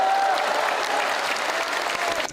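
A crowd at a Korean political party speech bursts into applause, a thick, continuous roar of clapping that holds strong before cutting off abruptly.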